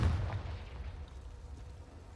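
Confringo spell explosion in a Harry Potter video game: a deep, heavy boom hits at once, then a rumbling tail fades slowly with no talk over it.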